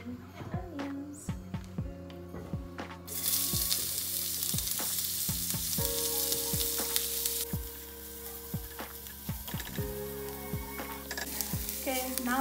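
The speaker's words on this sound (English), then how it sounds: "now that our onions are browning" Onions fry in olive oil in a very hot pan, a steady bright sizzle that swells as they are added, with repeated utensil taps and a voice speaking over it.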